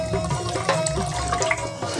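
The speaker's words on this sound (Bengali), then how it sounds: "এই জলটা এখানে দিয়ে দিই।" Water poured out of a bucket during a home rice-washing chore, a steady close splashing and trickling stream with small drips and no talk.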